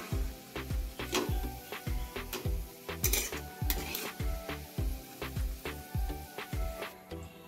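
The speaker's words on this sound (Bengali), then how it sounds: "তো এবারে আমি পেঁয়াজটাকে এক ছাঁকনির মধ্যে তুলে নেব, যাতে তেলটা ঝরে যায়।" Fried onions lifted out of hot oil into a strainer for a rohu fish korma, with repeated rhythmic metal scraping and clinking over a steady background of sizzling, close and fairly loud, no talking.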